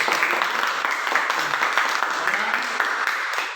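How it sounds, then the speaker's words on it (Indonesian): Steady clapping from an assembled group after a classroom-style presentation, dense and continuous at an even level throughout, with no voices standing out above it. "Sekali lagi mari kita berikan tepuk tangan."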